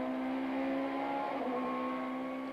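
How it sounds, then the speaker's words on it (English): Touring cars racing at Kyalami in the 1994 South African championship, one overtaking a Nissan, give a steady loud engine drone with a sustained tonal whine throughout. "Taylor has squeezed his way past the Nissan and is up into second place"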